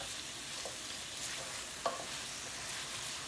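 Garlic frying in a pan, stirred continuously, giving a soft, even sizzle with a faint scrape or clink now and then, quiet and free of talk.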